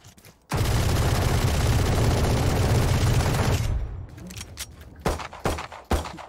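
Pistol gunfire in the video game Valorant on the Icebox map, a loud sustained rapid volley lasting about three seconds, followed by a few sharper separate shots and impacts.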